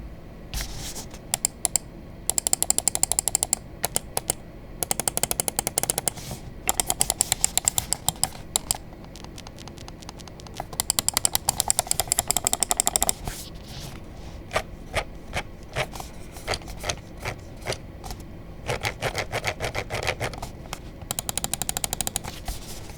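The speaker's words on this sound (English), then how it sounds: "let's go ahead and drop the build and click quality sound check" Rapid bursts of crisp clicks from the Darmoshark M3 Pro Max gaming mouse buttons, close and loud, with fast repeated clicking runs separated by short pauses and no talking.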